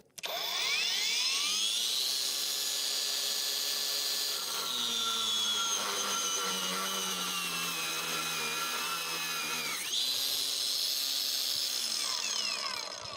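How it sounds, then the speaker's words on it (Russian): A PATUOPRO PTA001601 angle grinder, rated 8400 rpm, whines loudly and steadily as it cuts, its pitch sagging under load and then rising again as pressure eases. "Буду прижимать болгарку и смотреть."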